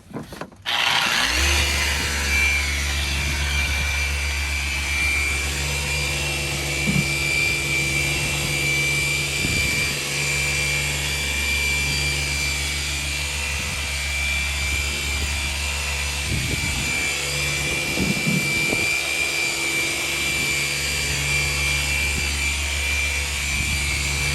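A polishing machine buffs the hull of a Chris Craft Catalina boat, a loud, steady motor drone running nonstop with slight shifts in pitch and load as it is pressed against the surface.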